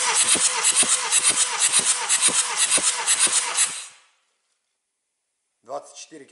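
A 2-liter BMW N47 diesel engine in a 2010 BMW X1 E84 cranks during a compression test, with rapid rhythmic chugging pulses for about four seconds, then silence and a brief voice.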